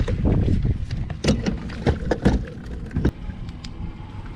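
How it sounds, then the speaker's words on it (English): A trolling motor is lowered on a fishing boat with a few clunks and mechanical thuds, then a quieter settling rattle as it drops into place. "So the first thing I usually do to get set up, I'll drop my trolling motor."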